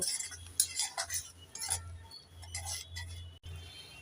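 A spoon stirs chara pona fish curry with chili powder and a little water in a pan, giving scattered light metallic clinks and scrapes in short bursts over a faint low hum.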